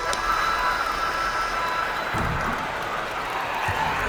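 Arena crowd in NBA 2K24 cheering after a basketball victory, a steady broad roar of noise sustained throughout with a couple of low thumps partway through.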